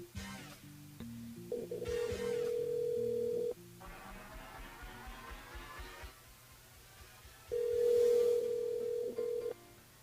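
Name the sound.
telephone ringing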